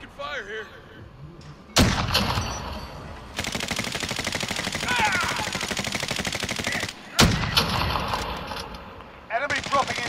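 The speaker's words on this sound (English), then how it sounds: "I'm taking fire here." Rapid bursts of video-game gunfire in a battle-royale style firefight crackle in dense, loud volleys, with a long sustained stretch of shooting and sharp onsets, while a player talks over parts of it.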